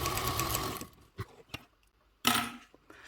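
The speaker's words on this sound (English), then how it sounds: "I'm just going to top stitch this at 1/8 seam allowance" A sewing machine top stitches fabric at close range, running in a quick steady whir, stopping, then starting again briefly with small mechanical clicks in between.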